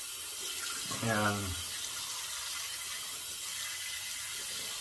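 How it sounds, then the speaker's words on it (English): Hot water pours steadily from a tap into a shaving bowl, a constant broadband hiss that fills the whole clip, with a brief spoken word in the middle. "I'm gonna temper my bowl with some hot water."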